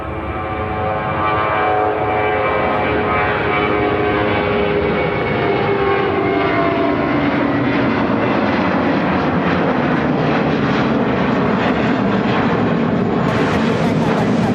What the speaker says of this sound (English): This is Spirit Airlines 771 taking off to Newark